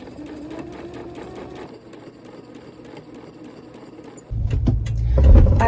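A sewing machine stitches fabric pockets, its steady mechanical whir running close and continuous, then growing louder and heavier in the final second and a half as the motor speeds up.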